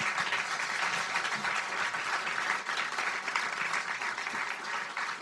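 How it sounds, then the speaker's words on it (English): An audience at a film screening about racial bias in home appraisals applauds steadily, a broad continuous wash of many hands clapping at even volume throughout, with no voices on top. "you can give that a round of applause"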